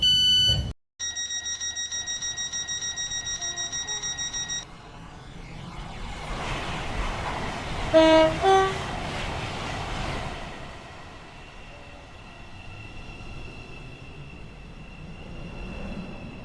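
A five-coach train at Faymere station in the Stepford County Railway video game, heard after a sequence of electronic chime tones: a broad rumbling rush swells in the middle, peaks, then fades to a lower steady hum.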